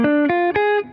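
An electric guitar plays a quick, rising dominant seventh arpeggio, four distorted notes picked in succession, the last one ringing out and fading.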